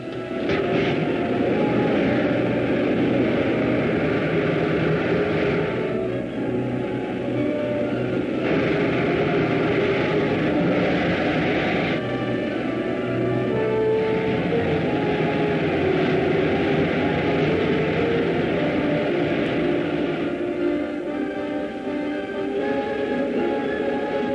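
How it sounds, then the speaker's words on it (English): Rocket ship jets roar in a 1952 film serial, a loud, continuous, rushing engine noise with a steady hum that holds for the whole stretch without letting up. "Fire pilot jets. Fire main jets."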